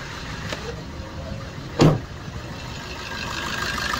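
A Suzuki Swift 1.3 litre diesel engine idles just after starting, a steady low hum close by with one brief thump midway and no talking.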